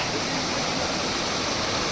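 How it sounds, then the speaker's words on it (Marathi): Waterfall beside the steps down to Kondjai Devi temple, a steady, loud broadband rush of falling water filling the whole moment without a break. "धबधबे धबधबे."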